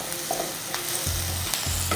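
Turmeric roasting in a pan for palak chicken, a constant sizzle broken by a few quick scraping strokes of a stirring spoon, close and without talk.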